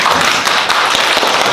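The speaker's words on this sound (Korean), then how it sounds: "박수 한번 하셔야 될 것 같아요" A church congregation claps together at a sermon, a dense continuous patter of hands rising from the pews and sustained evenly throughout.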